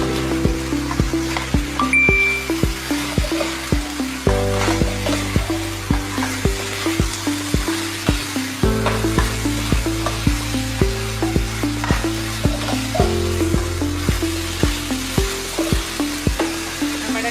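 Chopped fried ingredients are stirred in a hot pan while cooking a quick home recipe, with steady close sizzling and a regular rhythm of scraping stirring strokes throughout, no talking.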